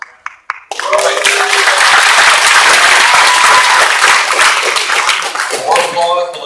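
Audience applause at a college debate on marijuana legalization starts after a few sharp claps, swells into loud, dense clapping from a crowd, holds steady and then thins toward the end.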